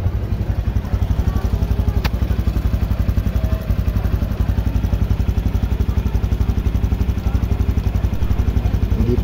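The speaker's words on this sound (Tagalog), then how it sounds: "Ito na po yung tunog ng kanyang makina after natin palitan ng piston at piston ring." A motorcycle engine with a newly replaced piston and piston rings idles close by with a fast, even putter and slight clatter, running steadily throughout with no talking.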